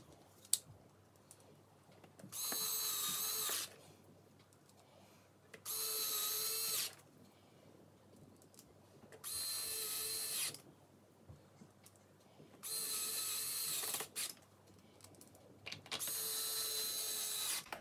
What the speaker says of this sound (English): reapply our 4 smaller screws up here and our larger screw in this smaller well in the front here